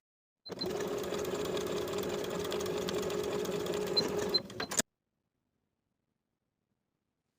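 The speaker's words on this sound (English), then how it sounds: "Sew with a 3/8 inch seam allowance from one dot to the other, backstitching at both points to secure." A sewing machine stitches a pocket seam with backstitching in one steady, fast, close whirring run of about four seconds, stops abruptly, then silence follows.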